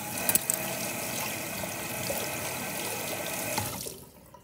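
Tap water runs steadily into a sink while a dirty coin is rinsed, with a few clicks near the start before the flow cuts off at the end.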